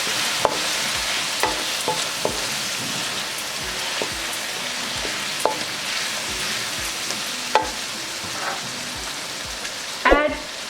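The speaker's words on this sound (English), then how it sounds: "I will add in all my masalas for this recipe. And give it a quick stir." Masalas fry in a pot for mutton biryani, with continuous crackling sizzle and repeated sharp scrapes and knocks of a spoon stirring, ending in a louder clatter.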